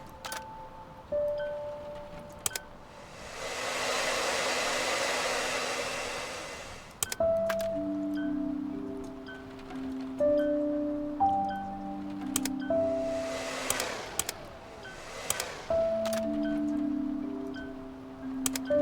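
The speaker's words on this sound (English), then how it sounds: "this little air blower thing isn't like super efficient, it looks like" A virtual air blower cleaning dust in a cozy cleaning video game, two bursts of soft whooshing air over light musical tones and game clicks, moderately loud and close.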